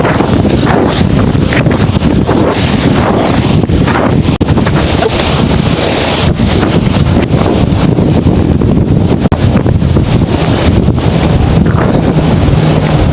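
A small waterfall in Las Colinas pours a steady, broad rush of water with no break, partly blurred by heavy wind buffeting on the microphone.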